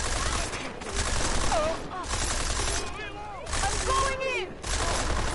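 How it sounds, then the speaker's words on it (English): Gunfire from the video game Deus Ex: Mankind Divided crackles in broad, sustained bursts throughout, with someone talking over the shooting. "Who is shooting?"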